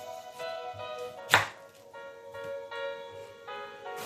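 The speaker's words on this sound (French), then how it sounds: "je coupe l'oignon." A knife chopping onion on a board in a home kitchen, a few soft muffled cuts with one sharper knock, heard faintly under steady background music.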